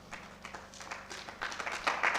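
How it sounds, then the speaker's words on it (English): An audience at a nurses' conference and awards event claps for an absent nurse, moderate scattered applause that swells toward the end, heard from a distance in a hall. "can we give him a round of applause?"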